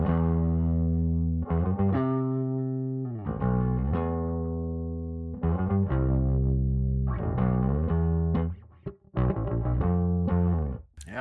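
Bass guitar playing a riff through a distorted, effects-laden tone, with sustained, repeated low notes and brief gaps, loud and close with no talking.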